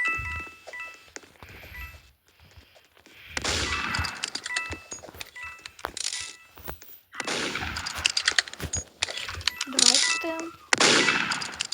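Bursts of rapid video game gunfire crackle in clusters with metallic clinks between them, separated by brief quiet gaps.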